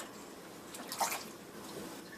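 Water pouring into a pot of vegan chili ingredients, a soft continuous splashing wash that swells briefly in the middle and then settles into a faint steady trickle, with no talking.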